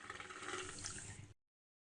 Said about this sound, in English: and the dirty water went down the drain.